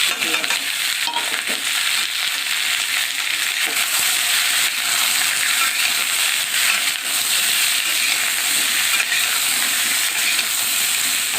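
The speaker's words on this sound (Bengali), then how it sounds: "একটু ভেজে নেব এর মধ্যে আমি একটা পেঁয়াজ দিয়ে দেবো" Onion fries in a pan with ol kochu and tangra fish, giving a loud, close, continuous sizzle and hiss with faint stirring scrapes, steady throughout and with no voices.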